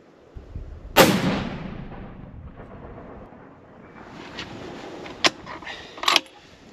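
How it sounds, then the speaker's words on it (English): A hunting rifle fires at a target on a range, one loud sharp report followed by a rumbling decay, then quieter clicks and knocks of handling the rifle. "I'm just going to try to shoot a group here."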